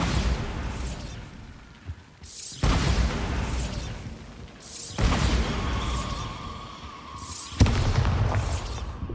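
Bombarda spell blasts in the Hogwarts Legacy video game, three or four loud booming explosions spaced a few seconds apart, each dying away into a rumbling, crumbling tail.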